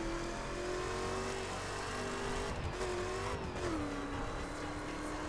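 A stock Chevrolet Corvette in the racing game The Crew accelerates hard, its engine note climbing steadily through the gears with brief dips at shifts, loud and continuous with no talk over it.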